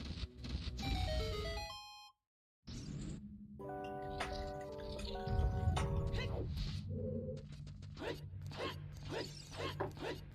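A phone ringtone goes off as a bright stepped melody of tones, breaks off into a short silence, then returns with more layered melodic tones and clicks at close range.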